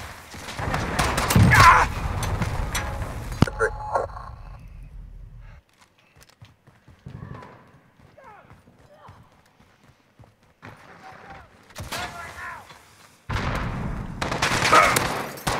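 Bursts of gunfire in the online shooter Call of Duty: Modern Warfare (2019) on the Atlas Superstore map, loud rapid shots at the start and end around a quieter stretch with faint movement and voices.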